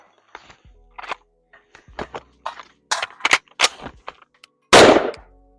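Gunfire from a pistol and rifle training drill: a rapid run of sharp, close shots in uneven bursts, ending with one louder blast, with no talking over it.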